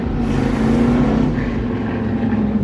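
Loud, steady roar of motorcycles speeding past on a nearby road, engine drone sustained and close throughout with a slight fade toward the end, no speech.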